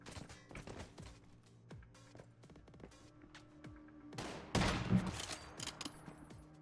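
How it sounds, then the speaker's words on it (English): Gunfire in the shooter game Once Human: scattered sharp shots and short bursts crackle throughout, with a louder, denser volley near the middle-end, moderately close. "That guy's shooting from right there."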